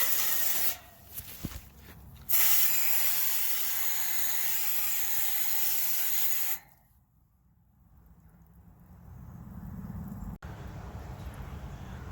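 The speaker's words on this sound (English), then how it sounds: "Let's use the sprayer and the hose." Garden hose with a sprayer nozzle spraying water onto an outdoor AC unit, a loud steady hissing rush in long bursts with a short gap, then cutting off to a quieter low wash of water.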